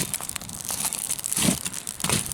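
Hot coals from a died-down fire are shoved into a cast iron oven, giving close crunchy, crinkling scrapes in short irregular bursts.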